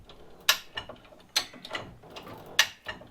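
A high-lift jack being worked to raise an off-road vehicle's front end for coil spring removal, with three sharp metallic ratchet clacks at steady intervals and faint clicks between them, close and with no talking.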